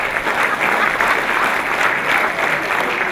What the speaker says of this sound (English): Round of applause, Louise.